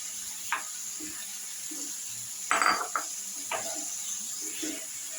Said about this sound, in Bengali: এবার আমরা আগে থেকে ভেজে রাখা মাশরুমগুলো সব দিয়ে দিচ্ছি এই গ্রেভির মধ্যে।